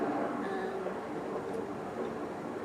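A train rolls past close to an allotment garden as a broad, steady rumble and rushing roar with faint metallic squeals, continuous and fairly loud throughout, with no talking.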